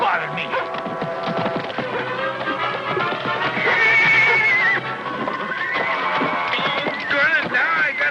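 A horse whinnies loudly and its hooves clatter in a vintage Western TV show, a shrill neigh rising over clip-clops and background music.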